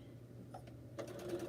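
A sewing machine stitches fabric scraps together in a short, quiet burst of rapid mechanical clatter, with no talking.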